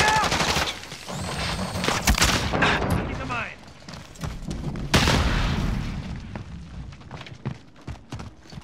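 A grenade explosion and bursts of gunfire in the Call of Duty: Modern Warfare shooter, loud sharp blasts and rattling shots with a big boom midway, mixed with game voice callouts.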